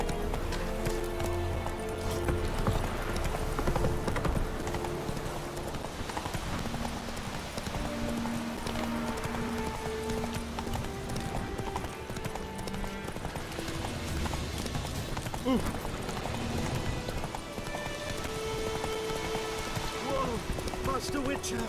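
A horse gallops in The Witcher 3 video game, its hooves beating a rapid, steady clip-clop close by, with rain pattering and game music underneath, while voices speak over it.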